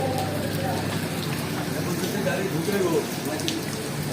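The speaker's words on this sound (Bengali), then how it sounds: "আল্লাহ বৃষ্টিটা কমায় দাও।" Heavy, steady rain hisses continuously, a dense wash of sound with faint voices in the background.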